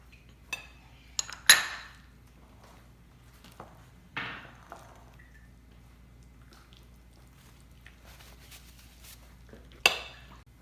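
A spoon clinks and scrapes against a bowl while sour cream is stirred into spinach artichoke dip, producing a few sparse sharp knocks and soft squishing strokes separated by near-quiet gaps.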